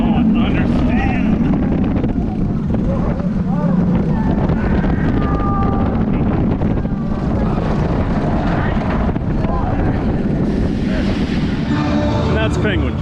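Riding the Penguin Trek roller coaster at SeaWorld Orlando brings loud, constant rumbling and wind roar from the moving train, with a rider's voice shouting and talking over it.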